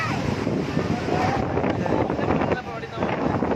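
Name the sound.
strong wind at Hemavathi dam, wind noise on microphone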